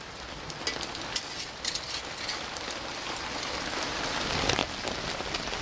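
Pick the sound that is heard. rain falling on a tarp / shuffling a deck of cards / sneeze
rain falling on a tarp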